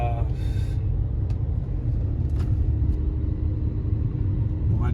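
A Mercedes C43 AMG cruising near the sea without accelerating, its low steady engine and road rumble heard from inside the car with a few faint clicks.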